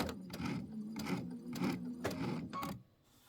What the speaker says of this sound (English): I set my machine up to do a heel tap, which will do single stitch.